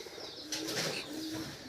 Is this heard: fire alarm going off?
no